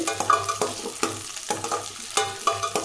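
Garlic sizzles in a hot pan as a spoon stirs it in regular strokes, a close crackling fry with rhythmic scrapes about every half second, no voices.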